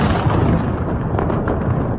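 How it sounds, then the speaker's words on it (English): Explosions in Russia's Krasnodar region, heard as a loud, dense, continuous rumble of blasts with no clear gaps between them. "explosions were heard in the Krasnodar region"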